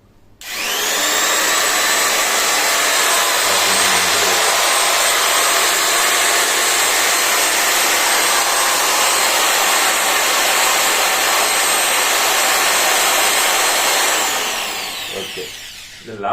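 A new impact drilling machine locked on with its switch runs alone at a constant, loud, high-pitched whine for about thirteen seconds, then spins down.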